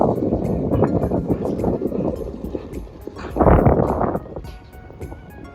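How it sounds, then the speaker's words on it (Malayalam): Steady wind in Chennai rushes and buffets the microphone, swelling into a louder gust midway before easing back to a constant blustery roar. "നല്ല തണുപ്പുണ്ട്, നല്ല കാറ്റും"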